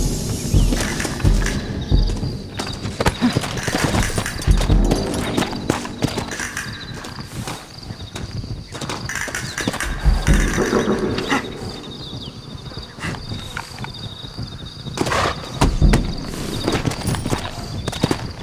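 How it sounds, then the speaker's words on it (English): Horses in the Red Dead Redemption video game gallop and clip-clop with a steady, close drumming of hooves, joined by scattered sharp hits and bursts of action noise, with no talk. "Looks like Carlos left us some horses."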